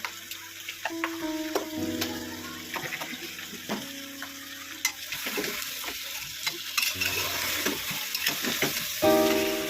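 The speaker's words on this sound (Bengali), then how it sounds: "আমি জলটা আগে গরম করে নিয়েছিলাম, ওই জলটাই দেবো।" Hot water going into a pan of mutton curry, with stirring scrapes and bubbling that rise toward the end, close and moderately loud.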